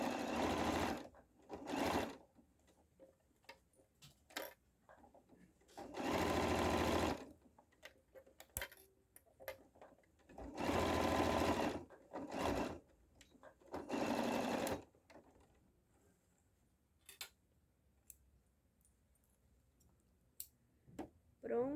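A sewing machine stitches along the edge of a fabric double pencil case. Several bursts of fast, close whirring are broken by pauses filled with small clicks and ticks.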